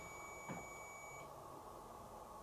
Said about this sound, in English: If you can turn that beep noise off as well